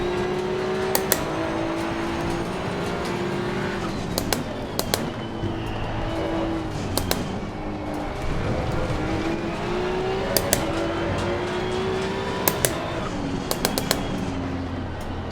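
Maserati GT2 race car engine in Assetto Corsa Competizione, droning loudly and steadily with pitch sweeping through gear changes, punctuated by sharp repeated crackles and pops.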